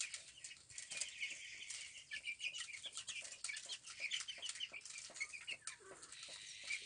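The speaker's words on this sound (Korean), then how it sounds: "병아리들이 니플에서 물을 먹고 있습니다" Young Araucana chicks at nipple drinkers in a brooder: a busy, close mix of soft peeping, faint clucks and quick wing flutters, with rapid pecking ticks throughout and no voices.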